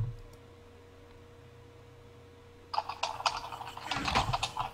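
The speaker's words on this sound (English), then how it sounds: "Whose keyboard is that?" Computer keyboard typing comes in as a quick flurry of clicking keystrokes partway through, close to the mic, after a stretch of quiet background hum.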